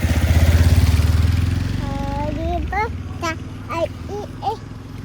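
A motorcycle engine running nearby on a rural path, a steady mid-pitched drone that is loud at first and then fades, while a child and an adult talk over it.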